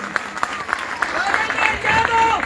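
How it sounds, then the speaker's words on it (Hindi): Crowd at an outdoor political rally in Pawta, applauding to welcome a minister: scattered, uneven clapping that builds over a couple of seconds, with raised voices and some talk mixed in. "आप जोरदार तालियां बजा के इनका स्वागत करिए।"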